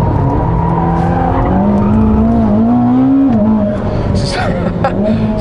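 Ferrari SF90 Assetto Fiorano lapping the Fiorano track, its engine note a loud, steady high-pitched drone that rises and falls with the throttle, with brief tire squeal.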